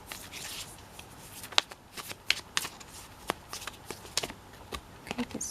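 Tarot deck being shuffled, giving a run of crisp, irregular card riffles and snaps at close range, alone without talk, some flicks louder than others.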